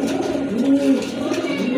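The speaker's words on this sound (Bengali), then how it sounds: "এটা হচ্ছে আপনার মাদি কবুতর।" Domestic pigeons, including a female, coo in a soft, steady, low warble throughout, with no talk over it.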